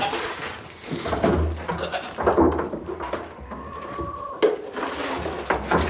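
Goats bleat repeatedly while being fed from a trash can lid on a homestead in January, nearby calls mixed with shuffling and clattering feed sounds.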